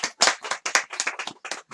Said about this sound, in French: Allez, on s'applaudit le public.